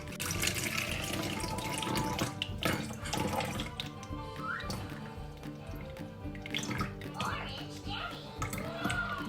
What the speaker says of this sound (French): je suis venue mettre mon pichet verseur avec la tare et je vais venir mettre 150 g d'eau